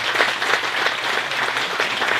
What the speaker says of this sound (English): So give the citizens a round of applause.